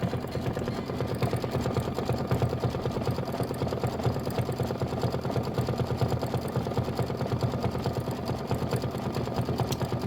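Kimberbell embroidery machine stitching the leg and tail fill of a camel block for a Nativity bench pillow, a steady fast mechanical needle chatter running continuously at close range without talk.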